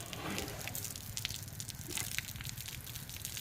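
Steady running water with a continuous splashing wash and scattered drips, moderately close and fairly quiet, no voices, as an elephant drinks.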